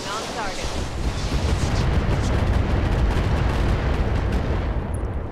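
Heavy mech weapons fire toward a target in the Roguetech BattleTech game, a dense sustained barrage of booming, rumbling blasts filling the whole stretch with no clear gaps.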